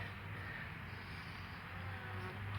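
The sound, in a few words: bees buzzing at a hive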